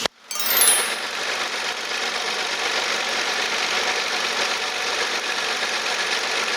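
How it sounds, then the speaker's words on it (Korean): A Kia Ray Turbo engine, hood open, turns over, then settles into a steady, close idle with an even mechanical hum and faint ticking. "일단 엔진 소리부터 한번 들어보도록 하겠습니다"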